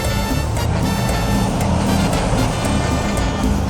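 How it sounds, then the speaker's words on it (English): A fire truck passing outside, its engine a loud, continuous low rumble with a steady roar that stays strong throughout, heard from indoors with no speech. "Hello, fire truck, making noise,"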